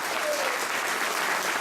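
A crowd at the Tour du Jura cycling event gives dense, continuous clapping, a steady wash of applause filling the whole moment.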